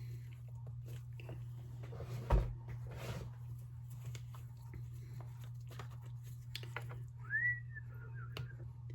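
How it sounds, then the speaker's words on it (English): Someone whistles idly to themselves while crafting with resin, a few brief melodic whistled notes near the end over faint clicks, handling noises and a steady low hum, with no talk. "Does anybody else whistle to themselves when they're crafting?"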